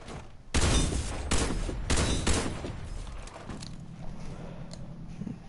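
Sniper rifle shots in the shooter game Warface, several loud sharp blasts in quick succession, each ringing out briefly before a quieter stretch of low rumbling game ambience.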